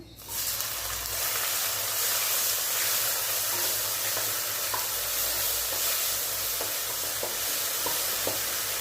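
Snails drop into hot oil with a sudden loud sizzle that settles into a steady, dense hiss of frying, close by and continuous, with a few faint clinks of a utensil.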